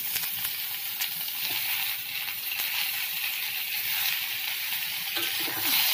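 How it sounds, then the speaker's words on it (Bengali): Mango pieces fry in a little oil for pickle, giving a loud, constant close-up sizzle with occasional faint scrapes of a spoon against the pan. "অল্প তেল দিয়ে আমি একটু ভেজে নিয়েছি। একটু একটু আমটা আমি ঢেলে দেবো।"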